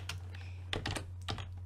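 Computer keyboard typing: a few quick, faint clusters of clicks over a steady low electrical hum, with no talking.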